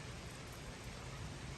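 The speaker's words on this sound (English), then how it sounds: "As we look outside, we see that it is still raining lightly." Light rain falls steadily outdoors during a November winter storm on rural land near the Ouachita River, a continuous soft hiss with no talking.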